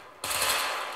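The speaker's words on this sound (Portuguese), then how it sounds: "Vamos dar uns tiros aqui." A sudden burst of automatic gunfire in The Division video game on Xbox One, starting sharply after a brief quiet and sustaining as a dense rattling roar for the rest of the moment.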